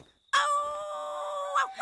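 A human voice imitating a rooster's crow: one long, strained, sustained call that rises at the end, loud and close.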